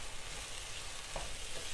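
Paneer cooking in an open pan and being stirred, giving a dense, continuous frying sizzle with a light scrape of the spoon partway through.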